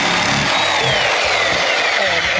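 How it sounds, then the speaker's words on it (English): A reciprocating saw cuts through a stuck part of a pontoon houseboat, making a loud, continuous buzzing rasp that holds steady with no pauses. "This thing's stuck, so Coots is gonna sawzall it off."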